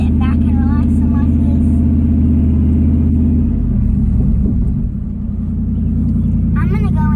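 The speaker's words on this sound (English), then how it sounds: "And Ease off the clutch and give it a little bit of gas." A scrap hauler truck's engine rumbles low and steady, then swells as the clutch is eased off and gas applied, with brief speech near the start and end.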